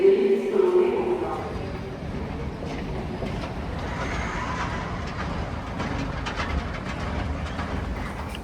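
A crowded Kyiv metro train gives a steady, broadband rumble with faint rattles and squeals throughout, opening with a short tonal chirp over the noise.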